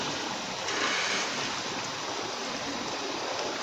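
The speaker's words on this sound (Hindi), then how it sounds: "देखिए बबल्स आ गए हैं, पानी में उबाल आ गया हमारा।" A pot of water with potatoes and spices for aloo biryani boils on a kitchen stove, a steady, dense bubbling hiss that holds evenly throughout with no talk.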